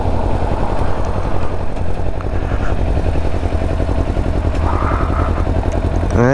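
A Kawasaki Ninja 400 motorcycle idles at a fuel stop with a steady, loud, close engine rumble, some mechanical clatter, and a brief rising whine at the very end.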